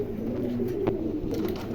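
A female pigeon coos in a low, steady, continuous murmur, close and moderately loud, with no voices over it.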